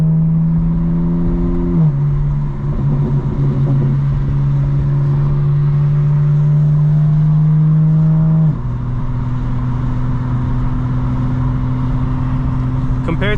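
A 2025 BMW M4 Competition xDrive drives and accelerates continuously, its engine droning loud and steady with clear gear-shift drops in pitch, close and dominant throughout.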